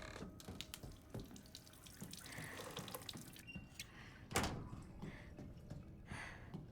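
Running water in the horror game Resident Evil Village, a steady splashing trickle like a tap or sink with occasional drips and a single sharp knock, fairly quiet and close, with no talking.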